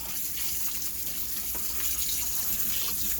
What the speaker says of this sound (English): we're gonna go ahead and pass the chicken through some lukewarm water in the sink